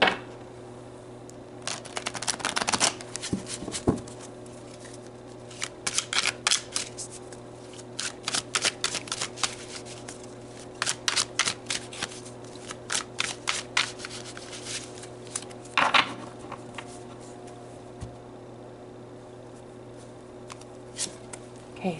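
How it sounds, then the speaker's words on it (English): Tarot cards are shuffled and pulled close up, with repeated crisp riffling flurries and soft flicks and slaps in irregular bursts over a low steady hum. "So let's pull some more cards"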